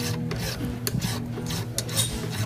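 Metal file rasping along guitar fret edges with a rolling motion, quick close scraping strokes repeating in an uneven rhythm, alone without voices.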